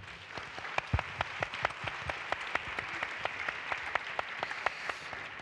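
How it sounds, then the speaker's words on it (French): An audience applauds for an entrepreneur from the Val-Fouré housing estate at a women's parliament forum, with several distinct sharp claps standing out over a steady, moderate wash of hand clapping that lasts throughout. "Je vous demande de l'applaudir"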